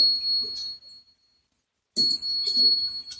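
A bell rings from a ghost-hunting device set up inside a house during a paranormal investigation, sounding as short, thin, high-pitched chimes in two bursts with a silent gap between, faint voices murmuring around it.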